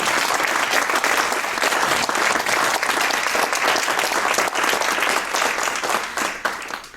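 An audience claps loudly and continuously after a talk about G.K. Chesterton, a thick, close wash of hands with a few sharper individual claps standing out.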